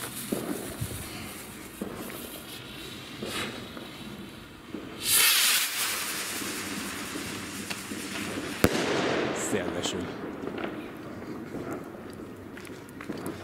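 Green fireworks rockets from a rocket assortment bursting outdoors, one sharp crackling explosion with a hissing spray and a second loud report a few seconds later, with glittery crackle and faint footsteps around it.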